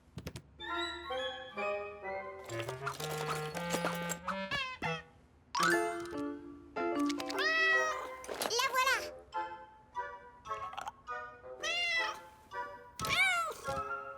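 A series of electronic meows from a toy cat in a cartoon, bright and tonal, repeating in quick bursts, with someone speaking briefly between them.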